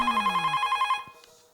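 A telephone rings on an outgoing call, a warbling electronic trill that pulses rapidly for about a second before cutting off, fairly quiet and alone.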